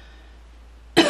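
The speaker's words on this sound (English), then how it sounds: "Excuse me, my coughing." Near-silence with a faint background hum, broken at the very end by a single abrupt cough.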